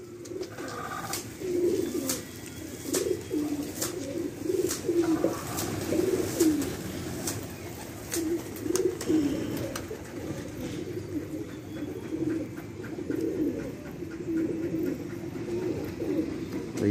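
Pigeons coo steadily on a rooftop, a soft continuous burbling with a few faint sharp ticks and flutters mixed in, heard at moderate distance.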